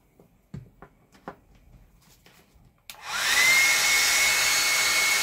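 A Conair rotating hot air brush dryer, under repair, is plugged in and switches on after a few faint clicks and handling noises, then runs with a steady, loud, close airflow whoosh and a faint motor whine.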